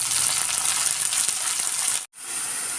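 Steady loud sizzling of chopped thavasi keerai (greens) frying in a hot pan, broken by a brief silence near the end before the sizzle resumes.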